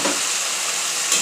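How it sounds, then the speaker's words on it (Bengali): Crabs frying in oil and spices, a steady loud sizzle filling the whole stretch with a brief surge of hissing near the end. "এবার এর মধ্যে অল্প জল দিয়ে দেবো, তারপর কাঁকড়াগুলো দিয়ে দেবো।"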